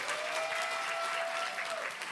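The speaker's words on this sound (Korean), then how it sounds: "신선자 당원님 큰 박수 부탁드립니다." Steady applause from an audience at the 70th anniversary ceremony of the Democratic Party of Korea, as an award recipient is honored; a short, even burst of many hands clapping at a moderate distance.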